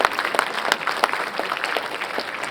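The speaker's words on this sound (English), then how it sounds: "we need an applause in this room with the same amount of energy" Room applause at a conference session on solar power, energetic clapping with distinct sharp individual claps rising out of a busy, continuous patter.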